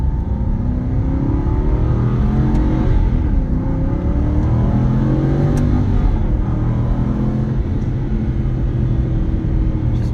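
A 2012 Aston Martin V8 Vantage convertible's V8 pulls hard and loud from inside the cabin, a deep rumbling engine note rising and falling through paddle-shifted gears for the full stretch, with no talk over it.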